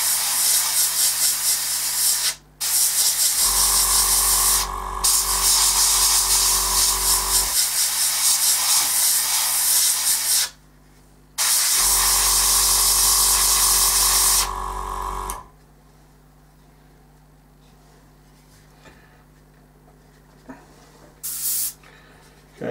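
An airbrush sprays paint in two long hissing bursts of about four seconds each, opened up to push through a clog while detailing a Lynx AH.1 helicopter model; a brief hiss sounds between them and quiet follows.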